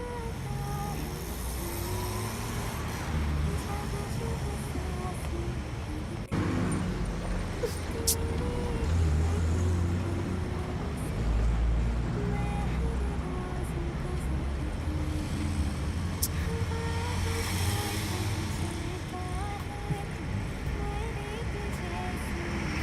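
Steady car engine hum and road rumble carry through the whole stretch, a continuous low drone of a vehicle underway with no pauses, mixed under faint background music and ambience.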